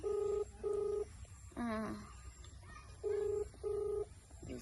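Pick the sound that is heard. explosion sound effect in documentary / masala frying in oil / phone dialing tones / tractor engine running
phone dialing tones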